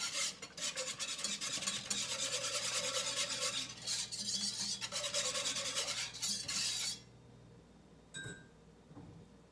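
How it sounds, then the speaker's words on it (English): Powdered sugar whisked into a milk mixture for homemade sweetened condensed milk, a steady scraping, rubbing rasp of whisk strokes against the bowl that runs continuously for several seconds, then stops, leaving quiet with a brief clink. "I'm going to use this one more time to whisk all this together"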